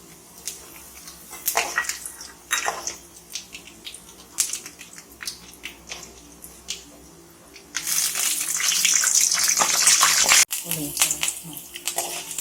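Dried red chillies hit hot oil for Tamil tamarind rice (puliyodharai), giving a loud, steady crackling sizzle for a few seconds that stops abruptly. Before it come scattered kitchen clatters and a voice talking.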